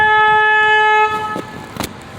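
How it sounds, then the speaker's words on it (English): A loud, steady tour boat horn blast sounds close by on the San Antonio River Walk, then cuts off, followed by a shorter second toot amid background noise. "I'm gonna honk the horn on the boat twice, so please don't be alarmed"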